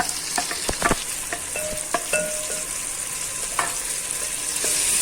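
Green chilies and tomatoes sizzling in a pan for aloo baingan, a potato and eggplant curry, with a steady loud fry and several sharp stirring scrapes and clinks near the start, no talk.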